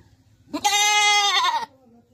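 A single goat bleat, loud and close, holding one long wavering cry for about a second with no other sounds around it.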